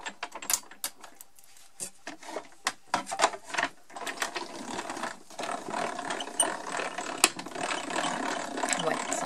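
Embossing machine rollers cranking paper through, a run of irregular ratcheting mechanical clicks and clacks that grows into a denser continuous grinding rattle, close and fairly quiet, with no talking.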